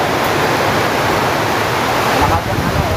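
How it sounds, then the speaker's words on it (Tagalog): Heavy rain pours steadily with gusting wind, a loud, dense wash of noise that holds nearly unchanged for the whole stretch, close by and without pauses. "Grabe yung ulan na ngayon"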